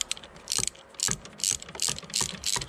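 A hand ratchet tightening an engine mount bolt on a BMW 1 Series, a series of quick metallic clicking bursts repeating roughly twice a second, close and clear with no talk.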